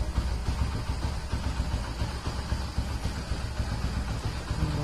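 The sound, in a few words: Hero Honda 100cc motorcycle engine idling after oil change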